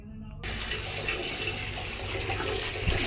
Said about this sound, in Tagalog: Shower na Kote.